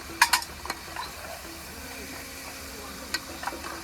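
Mutton for a dry black Agri-style mutton dish fries in a pan, with a soft sizzle under clinks and scrapes of a metal utensil stirring against the pan, and faint voices in the background.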